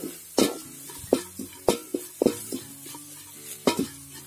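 Ondelaga (brahmi) leaves stir-fried in a pan: sharp spatula scrapes and clinks against the metal at an uneven rhythm, about a dozen strokes, with a faint sizzle underneath.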